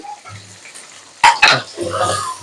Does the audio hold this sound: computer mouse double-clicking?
no